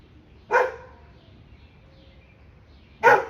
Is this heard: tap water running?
no